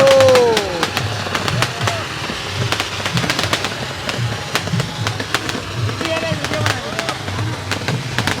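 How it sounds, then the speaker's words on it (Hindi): Firework bursts pop and crackle repeatedly over a noisy outdoor festival crowd at Marine Drive, Raipur, with several sharp bangs scattered throughout and a whistling rise near the start. "आतिशबाजी का मजा देखिए"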